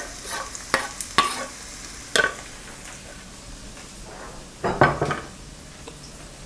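Onion goes into a pot with a couple of tablespoons of olive oil on the stove, producing a steady sizzle under repeated scraping and clanking of a spoon against the pot, with a louder flurry of stirring near the end.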